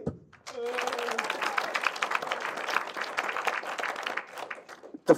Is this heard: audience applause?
yes